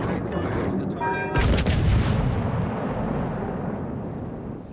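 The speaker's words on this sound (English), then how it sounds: "All stations, concentrate fire on the target." Naval guns on the battleship Tennessee fire in a warship video game: one heavy, close boom cuts in about a third of the way through and rolls off into a long, fading rumble.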